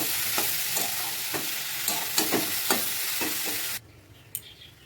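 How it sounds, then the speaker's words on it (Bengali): Grated carrots are stirred and fried in a wok, with a crackling sizzle and about a dozen rhythmic spatula scrapes that stop abruptly, leaving a quieter hiss. "গ্রেট করা গাজরের টুকরোগুলো ভালো করে কড়াই নেড়ে চেড়ে নিতে হবে"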